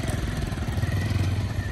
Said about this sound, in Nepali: उहाँको यो चर्चित मोटरसाइकल मेयर साहबको है